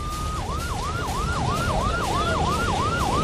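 An ambulance siren wails in a fast, repeating rising-and-falling cycle, loud and steady over the rumble of traffic, with no voices.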